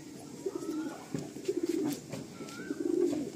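Madrasi pigeons in a loft giving several soft, rolling coos in repeated bursts, close and clear against a quiet background.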